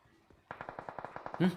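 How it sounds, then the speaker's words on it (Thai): Rapid automatic gunfire in PUBG Mobile rattles off in a fast, even burst, close and punchy, with a louder thump at the end over faint background voices. "เสียงปืนฟังขวาครับ"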